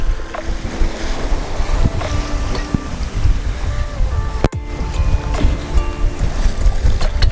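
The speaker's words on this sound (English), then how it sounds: "it's blowing a solid 20, maybe gusting at 25 occasionally today" Strong wind of about 20 knots gusting to 25 buffets a sailboat at sea off Huatulco, loud continuous roaring wind noise over the microphone mixed with rushing water and hull sounds, with a brief sharp knock partway through.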